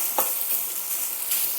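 Dry rice stirred and frying without oil in a cast iron wok, a steady close sizzle with scraping stir strokes, one sharper scrape early and another near the end, no talking.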